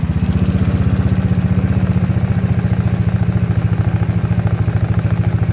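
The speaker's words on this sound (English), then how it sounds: "I'm idling back down. I'm turning this thumb screw, idle screw, counterclockwise." A GY6 scooter engine idles with a steady rapid putter, close and loud, the rhythmic beat holding even throughout with no voices.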